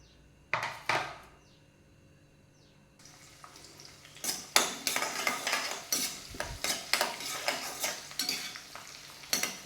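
Chopped ginger, garlic and green chilies sautéing in hot oil, heard as a soft sizzle beneath repeated clinks and scrapes of a spoon stirring the pan, the stirring growing busier and more rhythmic in the second half.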